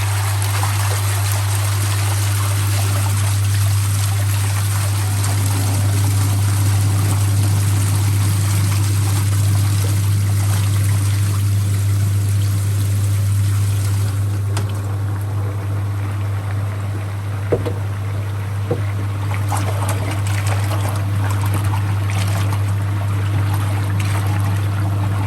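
Water churns steadily through the outer chamber of a Nexus koi pond filter during a backflush, a continuous close trickling wash over a strong low pump hum with no talk.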